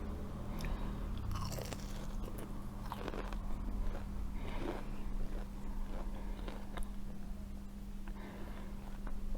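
Crispy fried sigara börek pastry rolls are bitten and chewed up close in a mukbang, with repeated loud crunches and crackles over a low steady hum.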